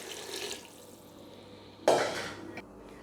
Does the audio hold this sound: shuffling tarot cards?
no